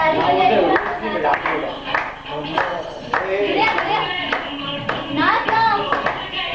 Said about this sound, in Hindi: बस ताली बजा